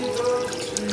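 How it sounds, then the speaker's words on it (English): Clam juice pours into a simmering sauce with a brief, close liquid splashing and bubbling. "now I'm going to add some clam juice, 8 ounces"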